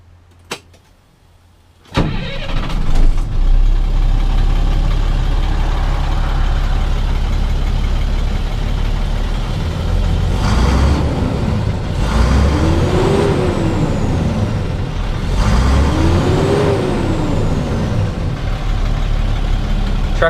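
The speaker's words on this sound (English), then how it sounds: "It's a crew cab dump truck." A 2001 International crew cab dump truck with a DT466 diesel engine and Allison automatic transmission starts after a brief silence and a couple of clicks, then idles with a steady, loud rumble and occasional rising and falling whines.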